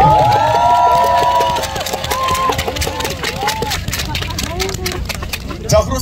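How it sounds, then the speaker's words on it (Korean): A festival crowd at a persimmon festival cheers and claps for the county governor, with loud shouts and whoops sliding over steady clapping and voices calling out close by. "여러분, 군수님께 다시 한번 큰 박수 부탁드립니다."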